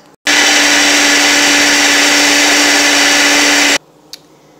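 A kitchen blender whirs loudly and steadily, blending a green smoothie of spinach and strawberries with stevia. The motor starts abruptly and runs for about three and a half seconds before cutting off into quiet.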